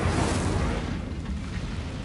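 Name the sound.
Incendio fire spell cast in Hogwarts Legacy, a video game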